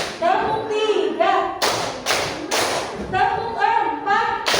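A class follows a teacher's clapping count from one to five: three short bursts of hand claps fall mid-clip, framed by the teacher's speaking voice before and after.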